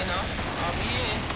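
Gunfire from a heavy, overheating gun in a video game rattles in a dense, rapid stream of loud shots, with voices talking over it.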